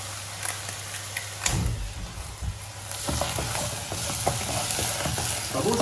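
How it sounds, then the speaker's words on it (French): Spirit poured into a hot pan and flambéed while making a duck confit pie with morels, giving a steady hiss and sizzle that swells into a broader, louder crackle partway through. "je vais verser et flamber"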